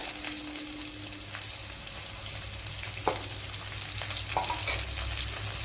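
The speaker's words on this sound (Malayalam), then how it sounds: "ഒരു സവാള അരിഞ്ഞത് ഇട്ട് കൊടുക്കാം." Chopped onion and fennel seeds fry in hot oil for a mackerel fish curry, giving a close, continuous sizzle with a few sharp scrapes from stirring.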